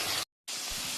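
Potatoes frying in hot oil, a steady loud hiss and sizzle that cuts out briefly and then resumes.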